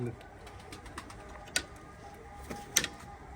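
Tumbler pigeons coo faintly in a loft, with soft scattered clicks and a few sharper taps, quiet and somewhat distant.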